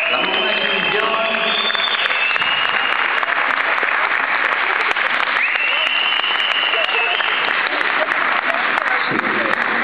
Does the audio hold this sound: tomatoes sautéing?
no